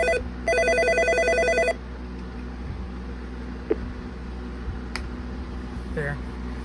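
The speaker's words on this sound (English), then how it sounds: "that's your call waiting ringtone," A Nortel i2004 IP phone call-waiting ringtone plays once, a bright repeating warble for about a second, then fades to a steady low hum with a few faint clicks.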